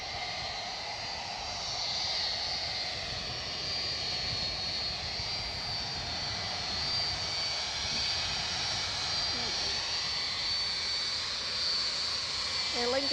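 Aer Lingus jet taxiing out at Edinburgh Airport, a faint, steady distant engine whine and hum held evenly throughout, with brief light vocal sounds near the end.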